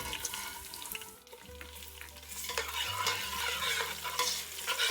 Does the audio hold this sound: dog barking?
no